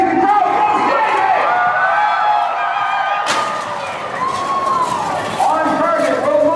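A crowd cheers and roars at a Renaissance fair jousting tournament as riders charge with lances, with a sharp burst at mid-clip and sustained loud crowd noise mixed with shouts throughout.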